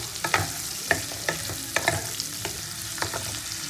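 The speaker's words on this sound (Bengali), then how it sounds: "এবার সব উপকরণগুলো একটু ভালো করে নেড়ে নেবো।" Chicken and other ingredients for dhaba-style chilli chicken are stirred in a frying pan, giving a soft sizzle with a series of sharp spatula scrapes in an uneven rhythm, close and with no talk.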